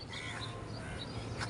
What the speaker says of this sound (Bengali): এবং কিছু কাক ডাকতেছে।